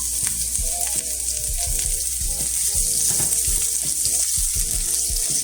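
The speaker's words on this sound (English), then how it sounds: "Alright, now we got some oil. We're going to add our onions." Onions hit hot oil in a pan, setting off a loud, continuous sizzle close by, with small crackles and pops throughout.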